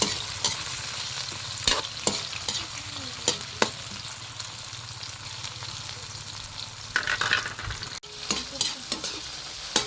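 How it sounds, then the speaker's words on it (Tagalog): Tomato, onion and garlic sizzle steadily in a hot pan, with a spatula scraping and stirring in soft clacks now and then, close and fairly quiet with no talking. "Igisa natin yung kamatis."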